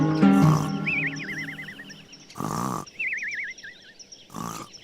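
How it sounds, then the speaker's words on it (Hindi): A cartoon wolf sleeps under a tree, snoring in three loud rasping bursts spaced about two seconds apart, with wavering whistling exhales between them and a voice narrating at the start. "बच्चों को ढूंढ रही बकरी ने उसके खर्राटे सुने"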